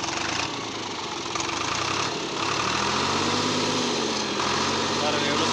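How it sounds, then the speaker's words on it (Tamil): A Deutz Fahr Agromaxx 50 tractor engine runs nearby with a steady, even idle hum that rises slightly as it is revved, holding continuously. "இன்ஜின் சவுண்டு பாருங்கள் எவ்வளோ ஸ்மூத்தாக இருக்குன்னு."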